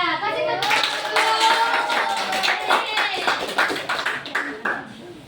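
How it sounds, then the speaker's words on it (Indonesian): Classroom children clapping together in a rapid, rhythmic burst of sharp hand claps, close and loud, with young voices mixed in throughout. "kasih tepuk"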